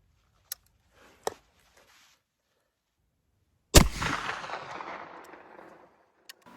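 One loud, sharp report from an 1874 Shiloh Sharps rifle fired at a distant target cracks out and rolls away in a long fading echo, preceded and followed by a few faint clicks.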